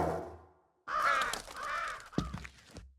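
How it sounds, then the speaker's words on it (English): Crows caw in a visual-novel scene from Tsukihime: A Piece of Blue Glass Moon, with a short call, then a longer harsh run of caws and a final burst, close and clear, with no voices. "Even got the crows, bro."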